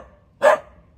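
A single short, loud dog bark close by on a rural property beside a chicken coop, alone against quiet background.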